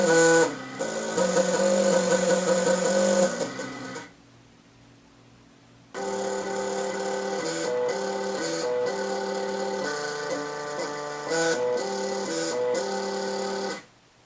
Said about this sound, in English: We modeled a typical step motor's sounds and equated different speeds to each note on the musical scale